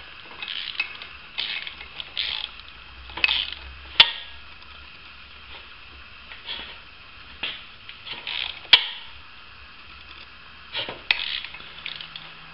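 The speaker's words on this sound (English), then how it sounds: "See, it continues to turn because the thread is stripped." Mini wrench spinning a bolt in a stripped engine mount thread, giving repeated soft ratcheting clicks in an irregular rhythm with a couple of sharper metallic ticks, close and fairly quiet, with no talking.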